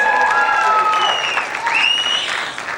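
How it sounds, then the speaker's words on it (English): Audience applause for a high school jazz band's bass player, a dense steady wash of clapping that fills the room from start to finish, with instrument tones ringing faintly underneath. "Give DJ on our bass player a round of applause."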